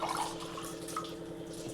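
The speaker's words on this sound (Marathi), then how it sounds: "हा 1 ग्लास भरून घेतला आहे पाण्याचा, हा टाकून घेते आणि अजून अर्धा ग्लास" A glass of water poured into a cooking pot, producing a short soft splashing trickle, faint and brief with no voices.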